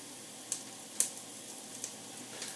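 Sliced potatoes sizzle in a pan over high heat for a potato cheese soup, a quiet steady hiss broken by a couple of sharp pops and spatters.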